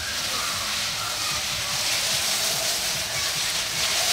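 Garden hose spray nozzle watering and washing dust off plant leaves, a steady broadband hiss of water spray continuing evenly throughout, close and fairly loud.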